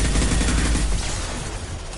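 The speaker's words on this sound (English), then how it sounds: "Let's try this cryo ammo." Dense, rapid gunfire fills the mix in Mass Effect Legendary Edition as cryo ammo is fired in a sustained, loud burst that tapers slightly toward the end, with no talking.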